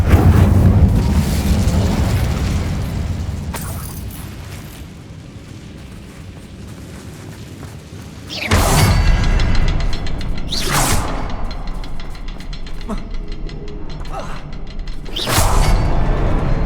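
Fire spell explosions from the Incendio charm in Hogwarts Legacy: three loud booming bursts with whooshing flare, the first around the opening seconds and the others at roughly eight and fifteen seconds, over a low rumbling game backdrop.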